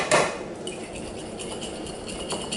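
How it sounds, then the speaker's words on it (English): A spoon stirring Anzac biscuit mix with cocoa powder in a bowl, opening with a sharp clink against the bowl and then softer scraping and knocking strokes, fairly quiet. "So you just give that a stir"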